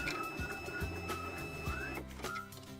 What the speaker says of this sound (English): hold the upward Move Card button while pressing the cleaning card onto the rear roller for 15 to 20 seconds